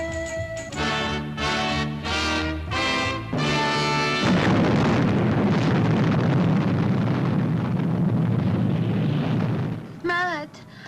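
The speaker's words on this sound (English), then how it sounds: "Steve is being caught by the blast" A loud, sustained explosion blast from the Fireball XL5 science-fiction puppet series episode The Fire Fighters, a broad roaring rumble lasting several seconds after a burst of music, ending with brief warbling tones.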